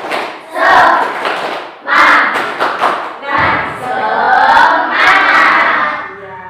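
Children at a storytelling and read-aloud session in Malang perform a rhythmic spirit clap, with loud bursts of group clapping and shouted chanting repeating in about four energetic waves, close and lively.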